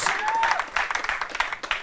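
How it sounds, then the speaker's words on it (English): Audience applause for contestants at a university law quiz competition final, a short steady burst of clapping with some crowd noise and a voice over it. "A round of applause"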